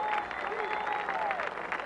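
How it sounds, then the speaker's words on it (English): Warm golf gallery applause at the Masters greets Tom Watson, a continuous patter of many hands heard at a distance, with a commentator's voice over it. "Wonderful, warm, enthusiastic applause for Tom Watson"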